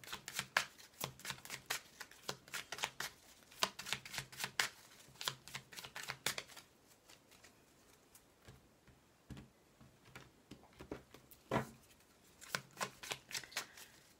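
Oracle cards being shuffled for a reading, bursts of rapid riffling flicks close to the microphone, pausing briefly between sets, soft and fairly quiet.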